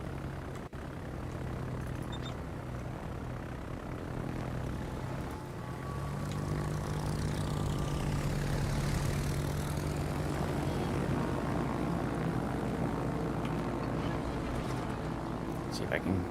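Aircraft engines drone steadily overhead in the naval video game World of Warships, a broad rumbling hum that swells slightly midway and continues under someone talking.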